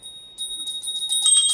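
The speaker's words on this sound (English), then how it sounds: "Please ring the bell as you do so." A small hand bell rings during an Arati lamp offering, bright metallic strikes starting faint and growing busier and louder over a short stretch, no voices.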